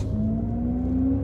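Audi S6 Sportback e-tron, a 550-horsepower electric car, launching under launch control, with a steady, close electric-motor whine and a low drivetrain hum that hold continuously throughout, and no voices.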